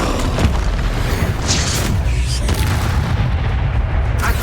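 Repeated booming spell blasts from the Expulso charm in Hogwarts Legacy, a dense run of loud explosive bursts and rumbling impacts, one after another, with no pause between them.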